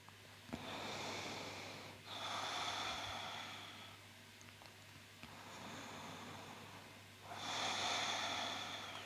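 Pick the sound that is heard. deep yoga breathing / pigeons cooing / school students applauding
deep yoga breathing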